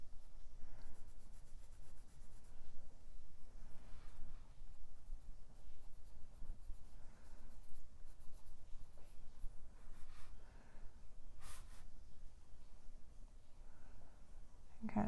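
Close, soft scratchy strokes of a colored pencil shading on paper with the side of its lead, in uneven bursts of rubbing and short pauses, alone in a quiet room.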